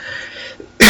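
One loud, harsh cough bursts out near the end, right after a stretch of quiet, steady hiss.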